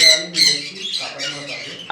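A sun conure parrot at a bird farm in Howrah gives a series of sharp, shrill squawks close by, short bursts separated by brief pauses, with voices talking alongside.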